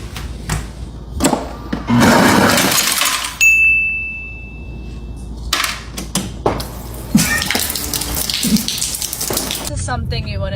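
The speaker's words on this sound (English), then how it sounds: "it's like, it's a typical water, and ice dispenser, right?" A refrigerator water and ice dispenser runs in bursts, with rushing pours and rattling ice drops under a bright electronic tone, while people talk nearby.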